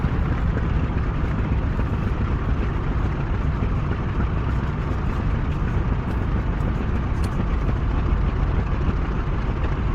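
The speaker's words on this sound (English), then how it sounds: "She sounds like an absolute bag of bolts. But that is typical of radial aircraft." A FW190 A-8 radial aircraft engine in a flight simulator, running steadily and loud for the whole stretch as a rough, dense roar with no voices.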